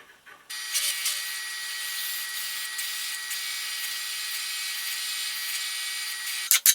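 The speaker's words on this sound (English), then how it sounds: "you can use it to ream the hole out, like I'm doing right here." A square-tipped woodworking awl reams out a hole in wood, a steady high whirring grind that starts abruptly after a brief quiet and runs evenly to the end, close and alone without talk.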